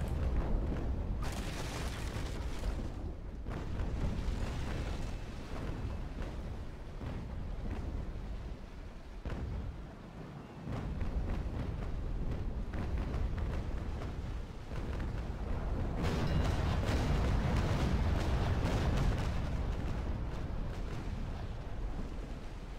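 Naval guns and explosions from World of Warships, with the Constitution battling the Bellona, form a dense, loud stretch of booming salvos and rumbling blasts that rise and fall with no talking.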